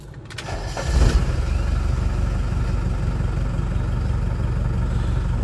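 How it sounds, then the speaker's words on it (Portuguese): A 1997 Ford F1000 XLT turbo diesel pickup with straight exhaust cranks briefly and fires up, then settles into a loud, steady, low rumbling idle close by. "Ela tá com escape direto, viu, pessoal? Vamos ligar ela para vocês aqui."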